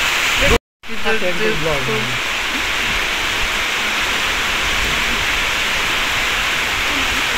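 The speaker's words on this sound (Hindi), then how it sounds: "बारिश नहीं ओले गिर रहे हैं ओले प्लस बारिश" Steady heavy downpour, a dense continuous hiss of rain and hail pelting surfaces nearby, with a brief moment of silence at the start.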